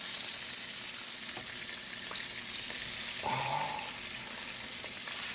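Catfish sizzles in a pan with a steady, fairly quiet frying hiss throughout, broken by a few small clicks and one brief scrape or clatter partway through.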